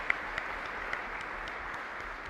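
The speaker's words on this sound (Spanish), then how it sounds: "Fuerte aplauso para el Señor." Congregation applauding during a parish Mass, a faint, steady patter of many hands with a few sharper claps near the start.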